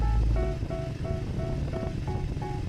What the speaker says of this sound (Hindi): यहाँ पे एकदम शांति और आपकी स्पीड 400 की सिर्फ हमिंग सुनाई दे रही है